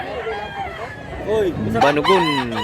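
Roosters crow back and forth at a busy chicken market in Mantalungon, Cebu, several loud overlapping crows rising near the end over a steady crowd murmur and voices.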